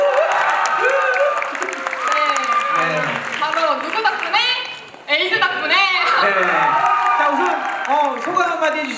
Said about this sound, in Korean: 박수 한번 보내주시고요.